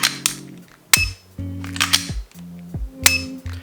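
Shots from a Laser Ammo dry-fire laser trainer hitting a target: a handful of sharp, close clicks at irregular intervals, with stepped electronic beeps sounding between them. No one speaks.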